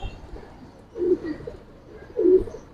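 A female giribaz pigeon coos in two soft, throaty bursts close by, with a quiet pause between them.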